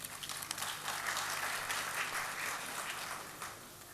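Audience at an Urdu mushaira poetry gathering in Doha, Qatar, applauding to welcome a speaker onto the stage, a steady wash of clapping heard at moderate distance that tapers slightly toward the end.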